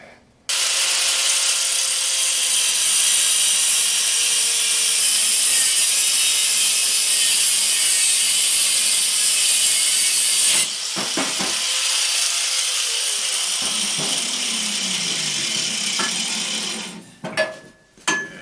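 A go-kart steering shaft is cut with a power tool, a loud continuous high grinding whine lasting about ten seconds, a brief break, then a second cutting run before the tool winds down amid clunks.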